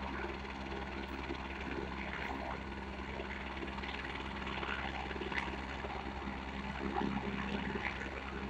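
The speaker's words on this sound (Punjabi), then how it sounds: "ਹੈਲੀਕਾਪਟਰ ਮੇਂ ਬੈਠਨੇ ਕਾ ਮਜ਼ਾ ਆਪਣਾ ਹੀ ਹੈ" Inside a helicopter on a flight toward Hemkund Sahib, a steady rotor and engine drone fills the cabin, constant and fairly loud throughout, with no talking.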